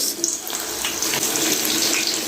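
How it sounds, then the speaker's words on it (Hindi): Crispy Chinese chicken kebabs going into hot oil in a pan, a loud, steady, broadband hiss and sizzle that runs without a break. "ये तेल हमारा गर्म हो गया है, तो अभी मैं इसमें डाल रही हूँ फ्राई के लिए।"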